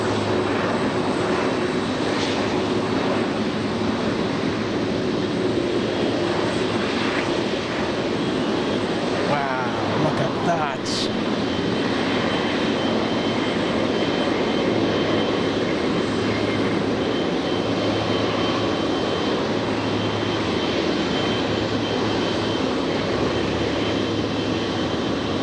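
DHL Boeing 777 cargo jet at LAX airport, a steady broadband engine roar that stays loud throughout, with a brief higher whine partway through and a voice speaking over it.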